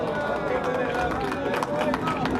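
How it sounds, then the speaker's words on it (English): A crowd at a candlepin bowling match cheers and claps continuously, moderately loud, with a commentator talking over the noise throughout. "The crowd giving Don a bit of a cheer"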